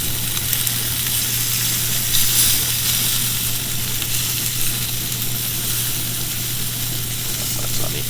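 Steak searing in butter in a hot pan gives a loud, steady sizzle and crackle that runs unbroken and close, with no voices over it.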